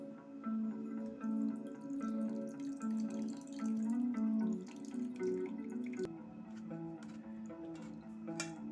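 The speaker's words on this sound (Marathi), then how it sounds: "मी आता हे गाळून घेणार आहे गाळणीतून" Curdled milk poured through a kitchen strainer, whey trickling and dripping continuously for several seconds beneath a steady tonal hum in the room, with no voices.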